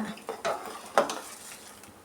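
Turmeric, spices and a little oil stirred together in a pressure-cooker pot for bassaru, with a few scraping clinks of a spoon against metal close up.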